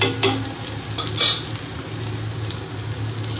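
Onion sizzles in hot oil with dried red chilli and garlic, a steady frying crackle broken by a couple of sharp spatula scrapes against the pan.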